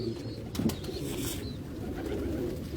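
Waishi pigeons in a Lahore loft give a low, soft coo under a steady hiss of background noise, with a brief rustle partway through.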